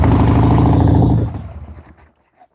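A Harley-Davidson Sportster engine, just after a carburetor adjustment, roars in a loud close rev that holds for about a second, then drops away and sputters down to near silence.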